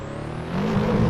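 Race car engine in the Assetto Corsa driving game, a dense, loud, continuous roar that rises in pitch as the car accelerates, with no talk.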